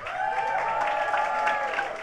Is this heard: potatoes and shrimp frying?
no